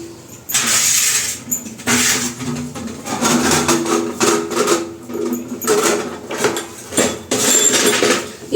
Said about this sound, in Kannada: ದೇವ್ರ ಪಾತ್ರೆಗಳೆಲ್ಲ ಇವಾಗ ತೆಗ್ದಿಟ್ಬಿಟ್ಟು ಸಾಯಂಕಾಲ ಬಂದು ಸಾಯಂಕಾಲ ತೊಳಿತೀನಿ